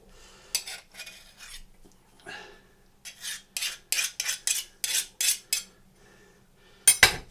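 Pie pastry being trimmed on a roasting tin for a Scotch pie, heard as a run of short scraping, clinking strokes in bursts with brief pauses between, close and fairly quiet.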